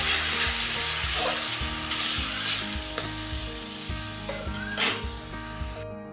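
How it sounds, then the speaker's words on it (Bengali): Spice paste sizzling and crackling in hot tempering oil for a tomato paneer curry, a steady, close frying hiss with occasional stirring scrapes and a faint tonal hum underneath. "এবার আমি এই ফোড়নের মধ্যে যে মশলাটা বানিয়ে রেখেছিলাম এটাকে দিয়ে দেব খুব ভালো করে ভেজে নেব"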